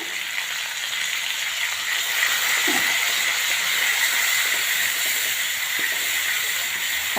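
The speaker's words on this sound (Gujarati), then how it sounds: "મસાલાને મસ્ત મજાનું ઉકળવા દેવાનું છે" Spice masala and water boil hard in a pan over a full gas flame, giving a steady, close hissing sizzle that runs unbroken with no talking.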